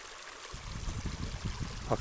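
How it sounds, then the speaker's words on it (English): Fast-flowing water from a hillside stream near a Cheviot Hills forest fills a water bottle, starting as a sudden gurgling rush that keeps bubbling and trickling up close. "I'm going to fill up with my water here."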